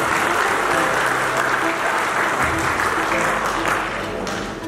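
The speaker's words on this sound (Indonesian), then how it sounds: "Tepuk tangan untuk kita semua." Loud, dense applause from a large audience fills a swearing-in ceremony for thousands of polling-station election supervisors in Buleleng Regency, Bali, continuing steadily throughout and easing slightly toward the end.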